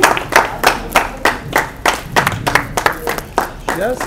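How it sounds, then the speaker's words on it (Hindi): Audience clapping for a painter at a desert art camp, a rhythmic burst of claps repeating steadily and loudly over about four seconds, with a voice briefly audible near the end. "जोरदार तालियां राजेंद्र जी के लिए"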